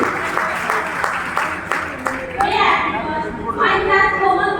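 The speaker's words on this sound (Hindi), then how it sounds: "एक बार जोरदार तालियां" Applause from the audience at a school orientation program in Kaithal, a broad wash of clapping that swells and holds loud throughout, with children's voices mixed in underneath.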